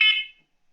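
A smoke detector gives one short, loud, shrill test beep that cuts off and decays within a third of a second, followed by silence.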